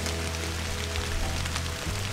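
Steady rain falling during an evening deer hunt in Maine woods, a dense even hiss of drops on surfaces, close and continuous with no talk.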